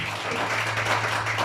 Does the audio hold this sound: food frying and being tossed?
no